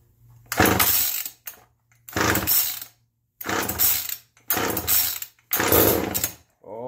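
A Homelite chainsaw being started by hand with choke on, five separate loud bursts of pull-cord rasp and sputter with short gaps between them, and a low steady hum underneath.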